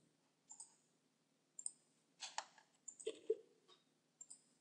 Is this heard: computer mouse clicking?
yes